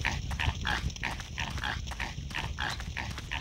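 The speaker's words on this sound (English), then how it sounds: "Yeah, we can hear those pigs still." Pigs in the game Evil Dead: Hail to the King give a steady run of rhythmic grunts, about three or four per second, close and moderately loud over a low rumbling background.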